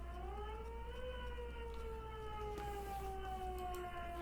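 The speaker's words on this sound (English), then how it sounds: "Oh, that siren's gonna drive me crazy." Siren in Disco Elysium, a steady, fairly quiet wailing tone with several layered pitches that slowly fall and rise, sounding continuously for the whole stretch.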